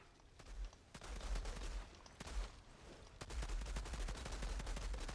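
Rapid pistol sidearm gunshots in the Outriders video game, sharp repeated cracks in quick bursts over a low rumbling background, loud and close with no talk.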